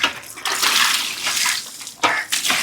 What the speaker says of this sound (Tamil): அவ்வளோதான் அலசி விட்டாச்சு. ஒரு லோடு பாத்திரம் வந்து கழுவியாச்சு.